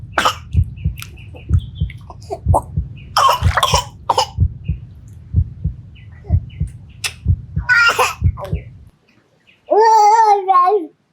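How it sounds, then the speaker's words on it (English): A baby coughs and sputters out inhaled water repeatedly in short fits during a swimming lesson, with babbling in between and a steady low pulsing throb underneath, ending in a brief whiny vocal sound. "He inhaled some. He was coughing it out."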